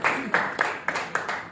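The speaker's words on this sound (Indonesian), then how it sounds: "Tepuk tangan bagi Tuhan." Congregation in a church service clapping in a steady rhythm, about six sharp claps spaced roughly a quarter second apart, moderately loud and close, with no talk over it.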